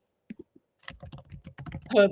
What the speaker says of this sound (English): Landy, LOL, Janey, you need to listen back to this typing.